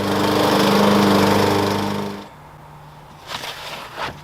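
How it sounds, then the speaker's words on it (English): A bagging lawn mower chopping up a pile of sticks for compost roars loudly and close for about two seconds, then cuts out, leaving a low hum and a few scattered knocks and rattles. "a nice mower like that will make a quick work out of that big old pile of sticks and such"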